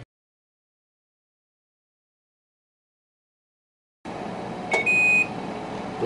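A KitchenAid countertop air fry oven chimes as its preheat cycle finishes: a couple of short, clear electronic beeps near the mic over a steady fan hum, after several seconds of silence.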